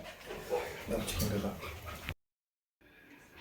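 A dog whimpers and yips while playing with a cat at a homestay in Kalimpong, short whines rising under nearby conversation before a brief silence.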